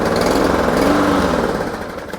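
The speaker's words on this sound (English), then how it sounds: "Now that mower just ran for 10 minutes and it ran poorly." Rough-running lawn mower engine surging, a loud close buzzing drone that wavers unevenly in pitch with no talk over it.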